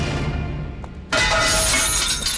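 Glass shatters loudly as a car window is smashed, a sudden crash about one second in followed by a sustained bright spray of breaking glass.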